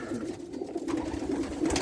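Frightened pigeons coo softly in a low, continuous murmur, a few birds close by in a loft.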